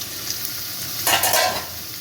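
Shrimp and onions fry in a wok with a constant close sizzle, and a short louder scrape-and-hiss of stirring rises midway before settling back.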